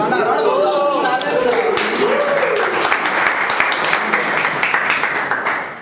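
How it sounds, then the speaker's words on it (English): Applause from a club audience at a debate, broad and steady throughout, with voices and some cheering mixed in over the first seconds before the clapping settles into a dense patter. "Round of applause for"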